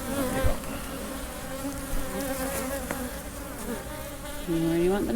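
Honey bees buzz steadily throughout a September hive inspection, a dense close-up drone with shifting tones, and a louder, nearer swell toward the end.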